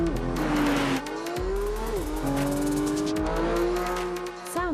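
A Porsche 911 GT3's naturally aspirated 4-litre flat-six screams through rising high-revving pulls, dropping briefly between gear changes before climbing again, loud and close with no talk over it.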